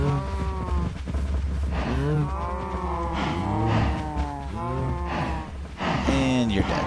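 Cattle in Minecraft moo repeatedly in a stampede, several drawn-out, sliding calls overlapping one another, loud and close, with little pause between them.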